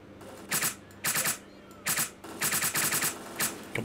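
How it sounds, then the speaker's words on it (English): Automatic gunfire from a weapon in the game STALKER Clear Sky comes in short rapid bursts of sharp cracks, loud and close, separated by brief gaps, with a faint game background underneath. "I'm running out of bullets so fast with this gun, though."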